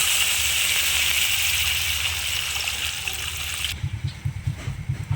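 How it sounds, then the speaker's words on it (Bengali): Water poured into cooked spice masala in a pan for a Bengali cabbage pakora curry, a loud continuous pouring rush that cuts off near the end, followed by bubbling, spluttering bursts. "মশলাটা কষানো হয়ে গেছে এবার আমি জল দিয়ে দিচ্ছি সামান্য"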